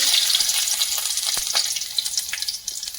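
Two cloves and a piece of cinnamon hit hot oil in a pan and sizzle steadily with a bright, hissing crackle, close and continuous, without speech.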